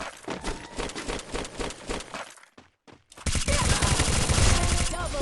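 A Bizon gun fires in a mobile shooter game, a run of fast rhythmic shots, then a sudden brief silence, then a louder dense volley of rapid fire.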